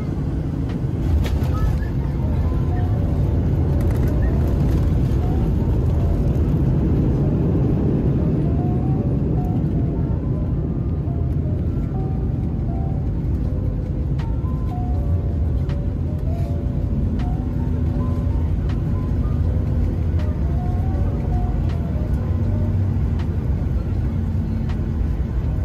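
A Ryanair Boeing 737 MAX 8 landing on runway 04 at London Stansted, heard from the cabin as a steady loud roar of engine and airflow with faint tonal whines throughout.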